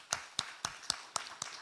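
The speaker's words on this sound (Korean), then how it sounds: "축복의 박수." Church congregation at a Friday evening worship service clapping in blessing for the praise team and staff; six distinct, evenly spaced claps, close and crisp, with no talk.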